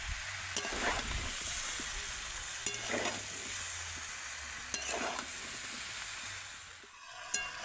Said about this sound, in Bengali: আলুটা দিয়েও আমি আবারও কিছুক্ষণ একটু কষিয়ে নেব